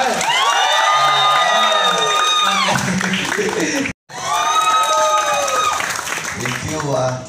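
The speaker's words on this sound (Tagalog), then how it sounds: "Palakpakan naman natin, may kasamang hiyawan." A live audience at a morning program at the Las Piñas–Parañaque Wetland Park claps and cheers loudly, with shouts and whoops running steadily. It breaks off briefly midway, then resumes at full strength.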